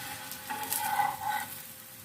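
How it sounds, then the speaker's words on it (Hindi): Mooli paratha frying in a pan gives a faint, soft sizzle with light stirring scrapes, steady and close with no talk. "पराठे को हमने दोनों साइड से अच्छी तरह से फ्राई कर लिया है।"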